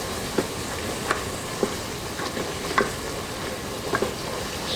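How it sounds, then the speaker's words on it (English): Tomato paste being stirred with a utensil inside a pressure cooker before short ribs go in, giving soft scraping and a light sizzle with a few distinct clicks of the spoon against the pot at irregular intervals. "Give that a stir, get everything incorporated."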